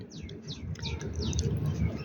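Pigeons outdoors under cloudy skies, with soft cooing and chirpy calls over a busy, noisy background, moderately close.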